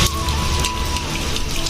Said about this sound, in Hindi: तो आप मन ला मैं बारिश ला दिखा रहा हूँ, बारिश और बहुत ज़्यादा बढ़ गए है ना।